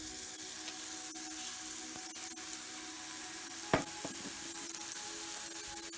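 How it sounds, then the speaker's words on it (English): Onions sizzle softly in a pan, a steady, faint frying hiss broken by one sharp tap midway. "So I've pulled the onions in, a nice little sizzle going"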